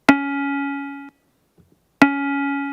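Square wave synthesizer tone shaped by subtractive filtering, a mellower held note with a sharp attack, played twice about two seconds apart with silence between.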